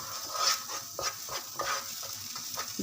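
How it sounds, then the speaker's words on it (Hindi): Flour with ginger and garlic roasting in a pan over medium heat, stirred with a spoon: a soft, steady sizzle with scraping strokes recurring about twice a second, close and fairly quiet, no talking. "ये देखिए अच्छा सा मैदा भून रहा है, हमारा मैदा और अदरक लहसुन भून रहा है।"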